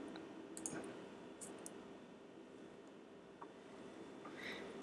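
A single soft mouse click on a create button in a quiet room, brief and faint, with a few other light ticks scattered around it.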